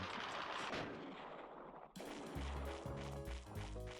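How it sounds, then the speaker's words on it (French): Gunfire pops and booming shots ring out in quick succession in the video game Chulip, followed by a sudden shift to a louder, busier burst of synthetic game sound with no talking. "C'est quoi ces coups de feu par contre?"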